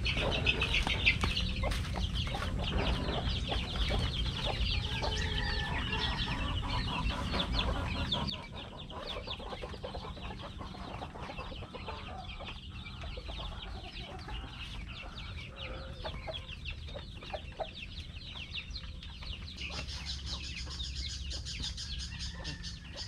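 Free range chickens cluck and murmur close by in a farmyard, with scattered soft calls over a quiet outdoor background.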